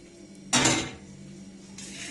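Green peppers, tomatoes and onion stirred together in a pan for an oven fish tray, giving one short burst of metal scraping and clinking, then quiet, then a softer rustle near the end.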